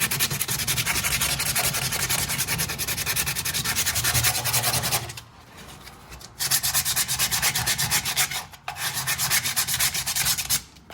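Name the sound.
sanding BMW E46 M3 exhaust tip with sandpaper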